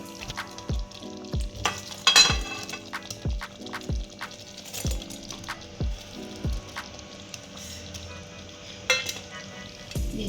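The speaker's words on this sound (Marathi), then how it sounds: "आता यामध्ये आपण तयार केलेले बॉल्स टाकून घ्यायचे" Veg Manchurian balls tumble into a simmering gravy and are stirred, with repeated rhythmic clinks and scrapes of a spoon against the pan over a gentle bubbling sizzle, close and clear, with no talking.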